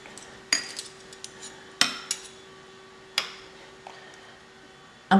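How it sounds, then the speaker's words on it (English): A spoon stirs colored cake batter in a bowl, making a handful of sharp metallic clinks and taps spaced irregularly against the dish over quiet background. "Let's get some spoon over here to stir well."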